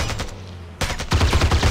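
Gunfire in Act of War: High Treason, rapid machine-gun bursts with sharp repeated shots, loud and close, briefly pausing before resuming in a fast rattling stream.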